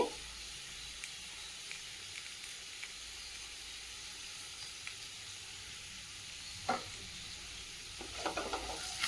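Potato and egg pizza cooks in a pan, giving a soft, steady sizzle with a faint hiss. A few brief scrapes and stirring clinks stand out near the end, and no one speaks.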